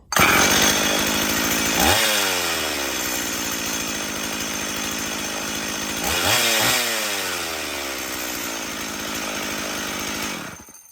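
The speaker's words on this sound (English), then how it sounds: "y'all seen well as I did, it does start." A Stihl MS 170 chainsaw with weak compression starts up and runs loudly and close by, its engine note rising twice as the throttle is revved before it settles and then cuts off.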